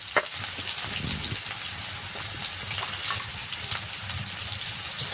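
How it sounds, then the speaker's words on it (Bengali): Raw onions fry in hot mustard oil for a Bengali banana-flower curry, giving a steady, close hiss of sizzling with faint scrapes of stirring and no talking. "সর্ষের তেলটা গরম হলো এবার কাঁচা পেঁয়াজ দিলাম"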